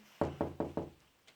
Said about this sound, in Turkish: Evet arkadaşlar kapıyı tık tıklatıyorum.